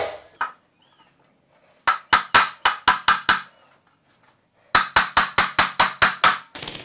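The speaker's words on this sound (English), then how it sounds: "moving the wood back and forth as I hammer each nail" Nails driven into wood framing members for a Habitat for Humanity build, heard as two rapid runs of sharp, loud hammer strikes, about seven and then eight blows, separated by a short pause.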